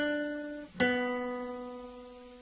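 Two plucked guitar notes from the Jingle Bells verse ring out in succession, the second sustaining and slowly fading; quiet and close.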